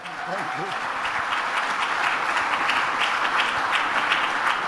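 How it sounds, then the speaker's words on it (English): Audience applause for the Indian footballer Bhaichung Bhutia at the Cypher 2024 event, dense, continuous clapping that fills the space, with a voice briefly audible at the start. "That itself deserves a round of applause"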